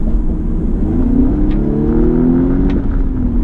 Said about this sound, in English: you would expect that the exhaust note would be a little bit more aggressive